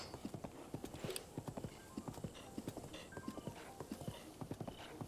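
Horse hooves clip-clop in a quick, steady rhythm as a mount gallops along in Zelda: Breath of the Wild, each hoofbeat sharp and close, with a faint neigh partway through.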